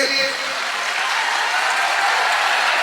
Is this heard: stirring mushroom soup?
no